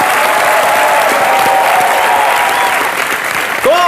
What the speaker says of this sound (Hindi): जोरदार तालियां करीना और इमरान के लिए